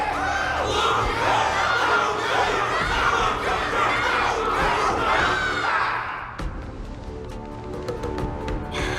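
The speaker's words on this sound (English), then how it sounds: "Can't you hear? Everyone's cheering for you, Luca!" A large crowd roars and cheers loudly and continuously in the video game Honkai: Star Rail, then the roar drops off abruptly, leaving scattered clicks and quieter background noise.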